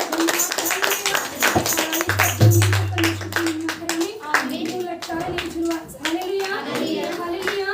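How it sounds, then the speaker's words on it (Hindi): Congregation clapping hands in thanks to God during a Saturday church prayer meeting, a steady run of sharp claps filling the room over several seconds, with voices heard alongside. "ताली बजाकर परमेश्वर को धन्यवाद।"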